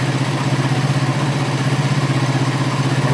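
Suzuki GSX-R150 motorcycle idling after a throttle body service, a steady close, loud engine chug with an even pulsing rhythm and no talk.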